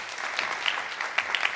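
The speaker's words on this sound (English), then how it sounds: "Give a big hand of applause to team number 2." An audience claps together in a steady, dense burst of applause at a team competition finals event, moderately close and brief.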